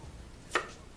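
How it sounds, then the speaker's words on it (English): A knife strikes a cutting board once while a short piece of carrot is chopped finely. The single sharp chop is fairly close in a quiet kitchen, with no talking. "I am going to chop it up a little finely"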